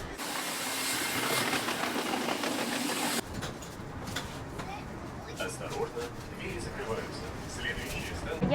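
Moscow metro train running underground, a loud rushing roar and hiss filling the first three seconds, then dropping to a quieter rumbling ride with faint rattles and voices in the carriage.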